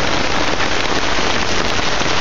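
Heavy rain with hail pours down during a storm over a woodland camp of hammocks and tarps, a dense, steady roar of drops and pellets hammering surfaces close by without a break.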